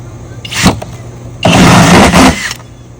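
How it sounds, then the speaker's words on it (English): A drill cuts a second 2-inch hole in a Can-Am Defender fender, heard as a brief whirring burst and then a louder sustained grind lasting about a second, close by. "we've got to drill 2 2-inch holes"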